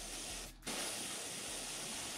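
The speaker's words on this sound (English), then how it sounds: "So I'm gonna spray here in the front" Airbrush spraying black paint along a stencil edge on a dragon claw crankbait lure, a steady close hiss that cuts out briefly for a split second, then resumes continuously.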